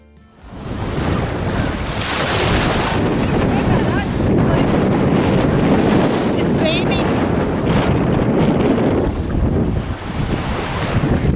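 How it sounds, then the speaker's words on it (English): Strong breeze on a beach in Goa buffets the microphone in a loud, continuous roar, with surf rumbling underneath. The gusting carries on for several seconds before easing slightly near the end. "It's so breezy here and it's already started to drizzle."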